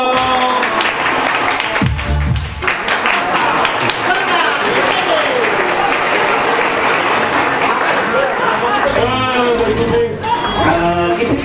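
TV game show studio audience applauds loudly on the French Burger Quiz set, with cheering, whooping voices and music mixed in, a continuous dense roar throughout.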